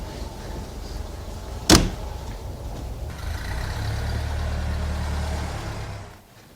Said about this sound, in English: Oh, here's our taxi, sir.